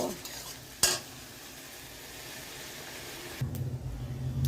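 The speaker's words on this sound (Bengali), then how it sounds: "কড়াইয়ে মাছগুলো ভেজে নেব" Prawns fry in a kadai with a steady sizzling hiss, a sharp clink of a utensil near the start and stirring scrapes; the sizzle grows louder and fuller toward the end.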